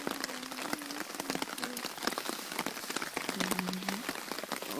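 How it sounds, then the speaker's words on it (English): Steady rain pattering on a camping shelter, a dense run of close, crisp drops and taps with a faint tonal hum in the background, no talking. "Nice rain."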